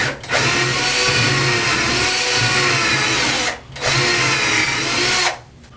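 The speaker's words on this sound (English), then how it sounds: "I got my bigger bit, and I can drill right into the wall" A power drill with a larger bit runs loud and steady, whining into a wall over a pilot hole in two long bursts with a short pause between, then winds down.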